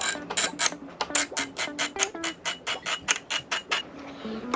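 Repeated ratcheting clicks from a wrench loosening the clutch lever bolt on a motorcycle during an ASV lever install, about fifteen short, evenly paced bursts, close and clear with no talk.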